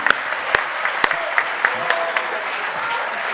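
Applause rises from the audience at a travel entrepreneurs' closing event, a steady patter of many hands with a few sharp, louder claps standing out near the front.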